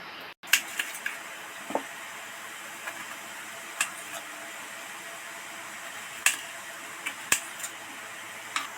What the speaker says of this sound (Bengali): দুটো আলু নিয়েছি এই দুটো আলু খসা সমেত পাঁচ ছ টুকরো করে নেব